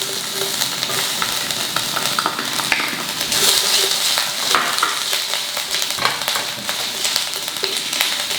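Ginger sautéing in a small amount of oil, a steady close sizzle and crackle with occasional stirring and pan scrapes throughout, no talk.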